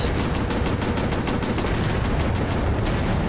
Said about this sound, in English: Overheated the machine guns.